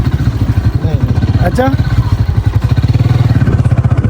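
Motorcycle engine chugging steadily at low speed on a ride, loud and close with a pulsing rhythm, while someone says a word over it.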